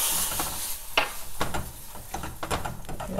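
Hot candied pecans just taken off the heat are stirred with a splash of vanilla extract in a pan, giving a soft steady sizzle broken by several scraping, clattering spoon strokes close by.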